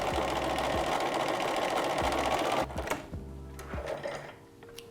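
Close sewing machine running a short zigzag stitch along the edge of an already-sewn seam, a steady rhythmic mechanical whir that slows and thins out near the end, with no voices.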